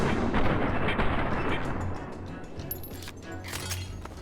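Grenade explosions in the video game Fallout: New Vegas, Lonesome Road: dense rumbling blasts and gunfire-like bursts, heavy at first and then thinning into scattered cracks and pops.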